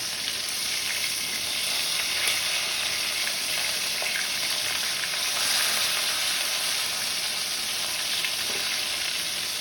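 Pomfret fish fry in hot oil with a loud, continuous sizzle and crackle, close and steady throughout, with no voices.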